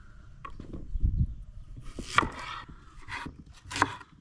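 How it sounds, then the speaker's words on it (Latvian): Onion, carrot and beets being cut with a knife on a board for frying in a borscht kitchen, a few crisp separate chops with short pauses between, close and fairly quiet, with no talking. "Sagriezīsim sīpols priekš cepšanas, burkāns un bietes."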